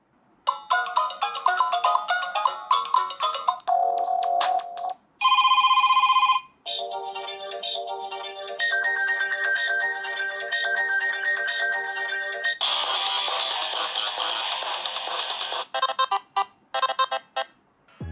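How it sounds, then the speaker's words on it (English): An Android ringtone plays on a Wiko T50 smartphone, cycling through several clear, loud electronic melodies and chimes, each cut off by short silent gaps, with no voices. "even the ringtone selection brings back some nostalgia if you have experience with older Android devices"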